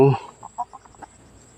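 A chicken gives a short series of soft clucks after a brief louder squawk at the start, fairly close, with a quiet background.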